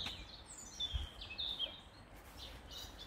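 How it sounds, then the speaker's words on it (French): Small birds chirp and tweet outdoors along a travel route with a scenic view, short high calls scattered at a moderate distance over a quiet background. "on entend les oiseaux gazouiller"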